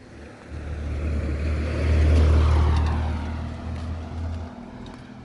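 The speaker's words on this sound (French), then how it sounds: "Parfois il y a des voitures." A single car passes on a mountain road near Munnar, India, its engine rumble and tyre noise swelling to a loud close peak around the middle, then fading away, with no voices.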